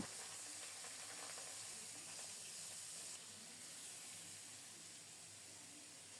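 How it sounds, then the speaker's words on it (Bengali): Marinated fish pieces going into hot oil with fried cumin seeds, giving a steady, faint sizzle and hiss throughout, with no talking. "জিরাটা ভালোভাবে ভাজা হলে একটা একটা করে মাখানো মাছগুলো প্রথমে দিয়ে দেব"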